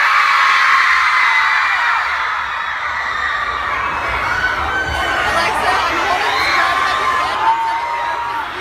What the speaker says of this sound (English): This is one of the loudest crowds I've ever had.